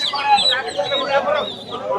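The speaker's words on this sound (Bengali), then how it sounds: "এদিকে রয়েছে মুরগির বাচ্চা রয়েছে" Chicks and young chickens at a crowded village animal market, their busy high chirps and clucks packed together near at hand over steady crowd noise and voices.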